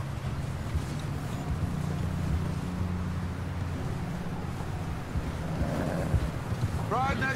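Stormy wind gusts blow through the Red Dead Redemption 2 game world, a steady rushing roar with low rumbling, as horses and riders cross near a bridge and faint chirping sounds surface near the end.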